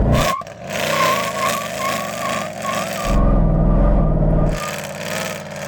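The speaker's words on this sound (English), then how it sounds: "I'm going to just warm up the tyres a little bit" Mercedes-AMG C63 Black Series warming its tyres before a drag race against a BMW M3, a loud, sustained engine roar with a surging low rumble that swells in the middle and eases again, no voices over it.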